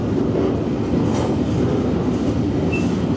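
A freight train rumbles past nearby, a steady loud roar of wheels on rails with faint clacking and a brief high squeal.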